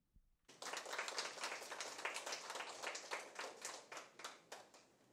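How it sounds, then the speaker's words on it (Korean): An audience at a climate and art forum claps steadily after a brief pause, a dense patter of many hands that thins slightly toward the end. "두 분 박수로 맞아 주십시오."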